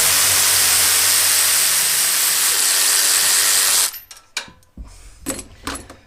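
An SP air ratchet removing a bolt gives a loud, continuous pneumatic whir and hiss for several seconds, then cuts off into a few sharp clicks and clanks of the tool and bolt.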